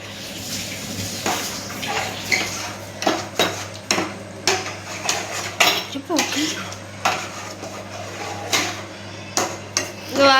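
A spoon scrapes and clanks against a metal cooking pot of mutton curry, producing a series of irregular clinks and stirring scrapes at close range with no talking.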